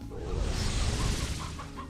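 Chickens clucking in the video game Slime Rancher, a short run of soft, fairly quiet clucks and low fowl chatter.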